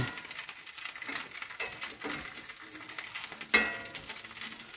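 Mushroom bacon frying in a pan gives a soft, steady sizzle with light crackles and one sharp metallic tap, close and fairly quiet.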